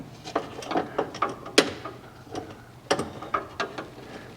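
Hose clamp being tightened by hand onto a UNI air filter on a Kawasaki KRX side-by-side, giving a series of close, irregular ratcheting clicks and metallic ticks spread across the clip with no talk.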